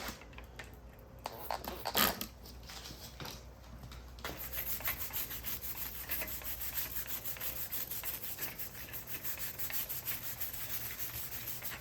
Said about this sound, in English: Clean up these pedals a little bit, just a little simple green and a scrub brush.